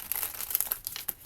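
Tarot cards being shuffled for a fire-sign love reading, giving a quick run of crisp papery riffles and slaps at close range, fairly quiet and continuous for about a second.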